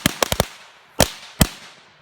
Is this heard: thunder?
no